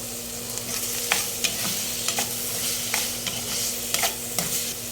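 Shrimp paste (alamang) sautés in oil in a pan with pork, a steady sizzle under repeated close scrapes and taps of a spatula, with a faint hum behind.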